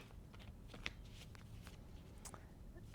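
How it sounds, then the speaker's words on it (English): A deck of tarot cards is shuffled by hand indoors, with soft, quiet riffling and scattered small flicks and taps over about three seconds. "I'm just going to shuffle a few more times."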